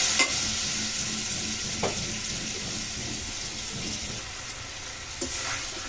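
Tilapia curry masala with potatoes stirred and sautéed in a pan with a little water, a steady close sizzle with occasional scraping stirs and no voices.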